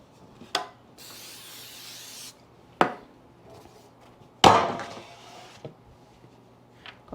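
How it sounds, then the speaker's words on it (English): Nonstick cooking spray hisses onto a large cookie sheet in one sustained burst of about a second and a half, with sharp clanks of the metal pan being handled before and after, close and quiet otherwise. "you're going to need to spray this with some nonstick spray."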